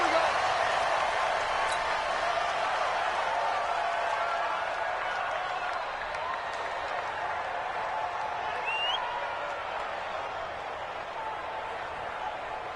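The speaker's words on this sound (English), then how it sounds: "this crowd is ready as their guys get set to match up between the Jacksonville Jaguars and the Denver Broncos" Stadium crowd in an NFL football video game, a broad steady roar of cheering and applause at a moderate distance, sustained throughout with no talk.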